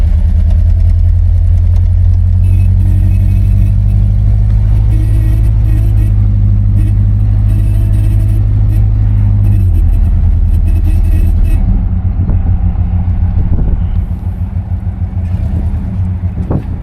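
A 1970 Buick LeSabre's 350 V8 with a performance cam idles with a lumpy, loping rumble, loud and close, then shifts pitch as the engine revs slightly and settles.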